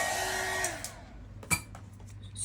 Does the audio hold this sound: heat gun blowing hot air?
yes